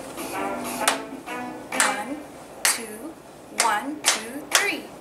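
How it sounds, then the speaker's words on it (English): Hands clapping in rhythm during a children's circle-time learning song, sharp distinct claps in a counted pattern, with a voice singing and counting between and around them. "We're gonna clap."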